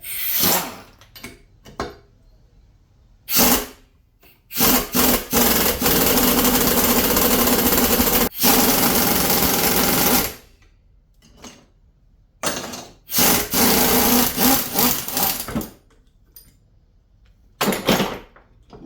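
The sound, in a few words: impact wrench loosening a bolt on a Kawasaki X2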